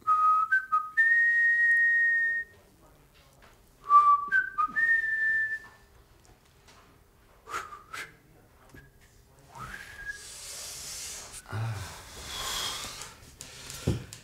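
A person whistles short, bright two- and three-note phrases, fairly loud and close, in a German comedy TV sketch. After a pause come a few brief chirps, then rustling noise and scattered knocks.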